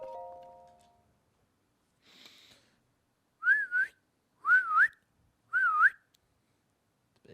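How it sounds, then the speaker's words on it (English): Link whistles in Breath of the Wild, three short rising-and-falling whistled phrases in a row, clear and close, following a brief chime and a faint rustle, with quiet gaps between. "Yeah, Link's just whistling."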